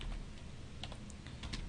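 Computer keyboard typing of a Linux mv command on a terminal, with a steady run of light key clicks over a low background hum, no voices.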